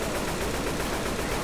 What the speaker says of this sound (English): just unload a whole clip in there